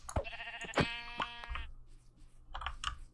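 Two or three quick nasal baas from Minecraft sheep in the video game, loud and close, then lighter blips and game sounds in a quieter tail.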